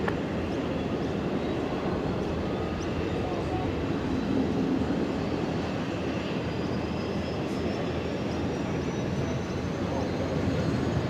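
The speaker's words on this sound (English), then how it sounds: "Qantas A330s on the move." Qantas A330 airliners taxi at Brisbane Airport, their jet engines a steady, broad roar heard from a distance with faint radio chatter underneath.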